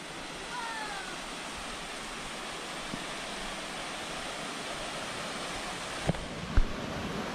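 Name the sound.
canyon waterfall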